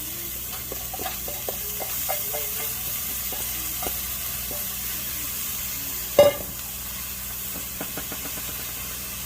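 Rice and seasonings for a meatless pelau sizzle in a pot with a soft, steady hiss and faint stirring, broken by one brief louder knock near the end.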